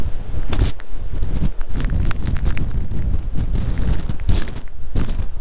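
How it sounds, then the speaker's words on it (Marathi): Strong gusts off the Arabian Sea batter a microphone on a seaside cliff in Konkan, producing a loud, rough, buffeting roar that surges and dips throughout with no voices heard. "कदाचित तुम्हाला आवाज क्लिअर येईल की नाही माहिती नाही मला, वाऱ्याचा आवाज असणार आहे"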